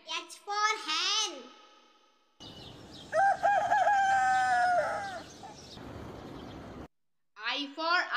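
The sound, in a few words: chicken clucking in a children's alphabet song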